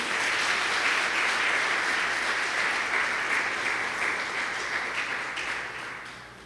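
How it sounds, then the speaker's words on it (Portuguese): A church congregation applauds together, a dense steady wash of clapping held strong for several seconds before gradually tapering off at the end, with no talk over it. "aplauda eles, por favor."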